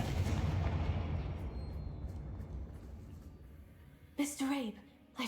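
A Confringo blasting spell goes off in a Hogwarts game with a loud, full explosion that rumbles and fades over a few seconds, followed by brief speech.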